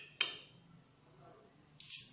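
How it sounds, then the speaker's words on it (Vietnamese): Two bright metallic clinks of utensils against a bowl while tossing a Huế-style fig salad, one near the start and one near the end with a quiet gap between. "Các bạn trộn đều cái hỗn hợp này lên"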